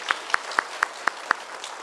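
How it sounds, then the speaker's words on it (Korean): A church congregation claps during a Sunday worship service, with six sharp, evenly spaced claps ringing out in a steady rhythm over a quiet room and no talking. "우리 큰 박수로 함께 축복하겠습니다."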